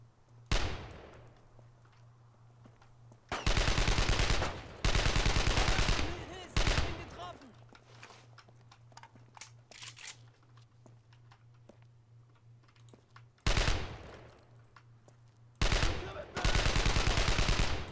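Bursts of automatic gunfire in the World War II shooter game Brothers in Arms: Road to Hill 30, loud rapid volleys in several long stretches separated by quieter gaps with scattered single shots and faint voices.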